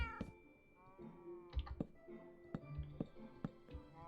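A cat in the Minecraft video game meows several times in a row, each short tonal call close and clear, with a few faint clicks of game play between them.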